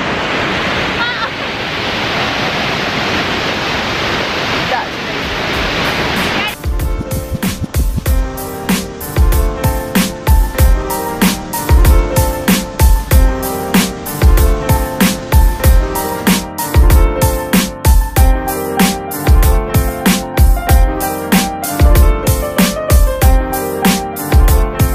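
Waterfall at Johnson Canyon in Banff, Alberta gives a steady, broad rushing roar for about six seconds before loud rhythmic music takes over and masks it.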